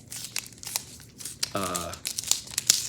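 The resealable plastic sleeve of a record package is opened, giving short crinkling and tearing rustles close by, with a brief voice in the middle.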